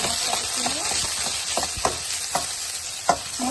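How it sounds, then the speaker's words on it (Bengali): Marinated catfish being stirred and fried with chili and spices in a pan: a constant sizzling hiss broken by repeated scraping strokes of a spatula at an uneven rhythm, with no talking. "এটা আবার দিয়ে আমি এখন মাছটি কষিয়ে নেবো আর একটু মরিচ ডাল দিয়ে কালার"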